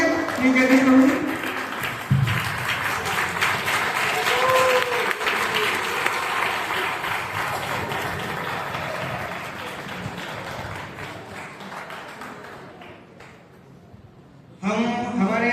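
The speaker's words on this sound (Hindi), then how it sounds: "तालियां बजती रहे।" Dense, sustained audience applause fills a drama festival hall, loud and continuous before tapering off, and then a voice begins speaking over a microphone.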